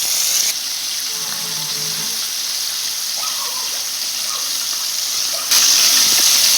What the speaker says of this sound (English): So as you can see, they will fry up nicely